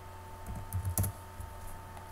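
A computer keyboard gives a brief burst of a few close, crisp keystrokes over a quiet background hum, with no speech.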